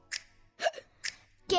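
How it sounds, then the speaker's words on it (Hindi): Repeated hiccup-like bursts from a woman in a 2007 Hindi film song, four sharp catches spaced through a short passage, fairly close and clear with no talk over them. "देखो ना रुकती क्यों आए साली हिचकी"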